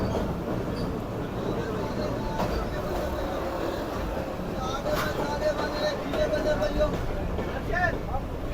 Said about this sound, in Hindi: तो ये ब्रिज से निकलते एक शार्प राइट कर्व ले रही है ट्रेन और साथ ही आहिस्ता आहिस्ता नीचे भी उतर रही है।